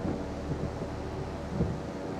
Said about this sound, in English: Sounds like we might have a thunderstorm out here somewhere, based on the thunder that I'm hearing